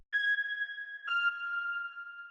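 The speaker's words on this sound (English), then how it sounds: "This is a simple square wave with some chorus, reverb, and lots of compression." Two plucked synth notes built from a simple square wave with chorus, reverb and heavy compression in FL Studio, each bright tone starting sharply and ringing out steadily, the second a step lower, alone with no voices.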